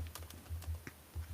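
Keys clatter on a computer keyboard in quick, uneven bursts of soft clicks over a low hum, close and fairly quiet.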